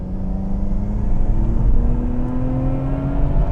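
A stock Nissan R34 GT-R's RB26 twin-turbo engine revs and climbs, a loud, close, continuous drone rising steadily in pitch with layered harmonics and intake and turbo whir, heard alone.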